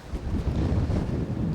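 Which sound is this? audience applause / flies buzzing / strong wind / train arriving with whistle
strong wind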